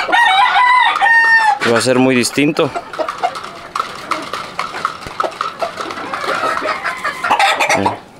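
A rooster crows loudly, followed by clucking and more crowing from nearby fowl while someone speaks over the farmyard sounds.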